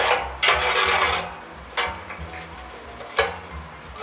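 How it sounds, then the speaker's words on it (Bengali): Whole spices, including whole black peppercorns, sizzle and crackle in hot oil, with a steady frying hiss and several louder spitting bursts as they are stirred, close and clear. "আমার গরম মশলাগুলো এখন ফুটে উঠছে"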